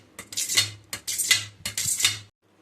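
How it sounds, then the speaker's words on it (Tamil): A knife cuts through set mango jelly for a homemade sarbath, three or four quick crisp slicing strokes with soft taps of the blade against the board, close and clear in a quiet kitchen. "பாருங்கள் இப்போ நம்ம ஜெல்லியில் அறுத்தாச்சு"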